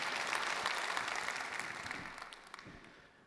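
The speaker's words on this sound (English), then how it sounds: "So give a big round of applause to Venki and the product management team for these demos as well." An audience at a business conference keynote applauds product demos, many hands clapping in a broad, quiet wash that gradually fades out toward the end.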